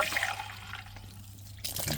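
Gold-recovery pump briefly sloshing water to rinse leftover material out into a pan, a steady wet gushing and splashing that carries on evenly, then surges louder near the end.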